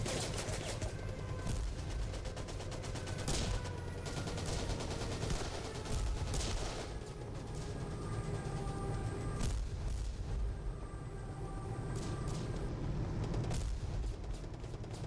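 Enemy gunfire in the World War 2 online shooter Battleground Europe, fought during an assault in Hasselt, crackles as rapid bursts and scattered single shots over a constant low rumble, at moderate distance and faint overall.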